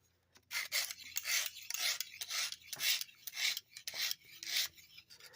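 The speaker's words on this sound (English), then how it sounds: "Now we're going to flip over to this other side. I am using my extra coarse stone" A knife blade that has almost no edge, a vintage Carl Schlieper Eye Brand from Germany, scrapes across an extra coarse sharpening stone. The gritty rasping strokes come close and steady, about one per half second, with no talk.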